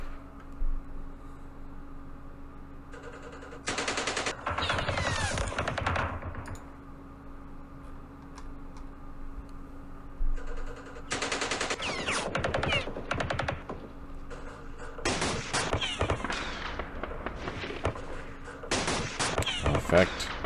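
Bursts of gunfire aimed at an engineer in the war game Campaign Series Middle East, several rapid crackling volleys separated by quieter gaps, with a steady background hum between them.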